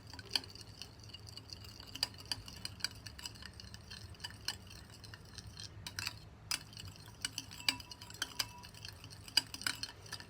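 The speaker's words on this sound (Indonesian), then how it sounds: "Kita aduk." Sweet and sour chicken being stirred in a pan, with faint scrapes and light clinks of a utensil against metal, scattered and irregular over a quiet background.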